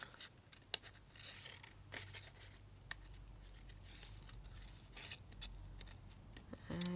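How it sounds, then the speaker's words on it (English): Scissors snip through a paper journal card at close range, making a run of crisp, irregular cuts with small rustles between them and no talking. "I feel like I'm cutting really slowly."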